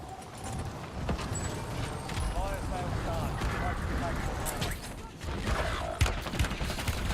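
Video game gunfire in Warzone: dense bursts of automatic shots and rattling effects crackle through a busy mix, with someone talking over the action.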